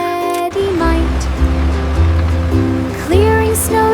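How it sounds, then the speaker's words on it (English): Ocean waves splash steadily beside a beach road in an animated nursery rhyme scene, a continuous washing surf heard under a loud, cheerful musical backing. "Waves splashed gently by the side as Benny worked the morning tide."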